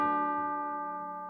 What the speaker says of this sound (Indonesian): Jam 12, dia dengar bel.